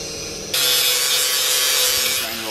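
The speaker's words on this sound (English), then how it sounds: "use a grinder to just take a little bit." A grinder bites into a wooden boat rudder, a harsh abrasive rasp that starts abruptly after a brief quiet hum and grinds steadily for about two seconds before easing off, close and loud.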